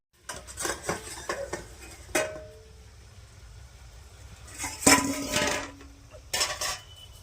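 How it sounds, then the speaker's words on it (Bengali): A pot lid lifted off a pot of steamed eggs, giving close metallic clanks and scrapes in short bursts with quiet gaps between them, no voices. "ডিমগুলো মনে হচ্ছে ভেপে গেছে এবারে ঢাকনা খুলে দেখে নিচ্ছি"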